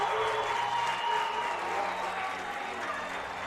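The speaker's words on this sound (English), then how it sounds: "Juab crowd comes to their feet here in the bottom of the 6th inning." Baseball crowd at a 3A championship game rising to their feet, with sustained applause and cheering that holds steady throughout, a broadcaster's voice faintly beneath it.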